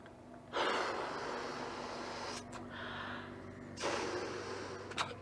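Deep, audible breaths taken before blowing up a balloon: a long loud inhale and exhale, a quieter pause, then another strong breath, close to the microphone.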